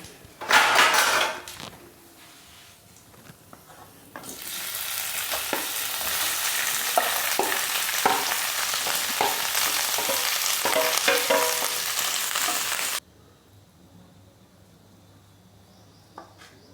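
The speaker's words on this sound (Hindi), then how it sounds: "और इसमें डालेंगे हम ये आलू।" Potatoes hit hot oil seasoned with turmeric and red chili powder, bursting into a loud, steady sizzle that fills most of the clip, with scattered clinks of stirring before it and a quiet fade at the end.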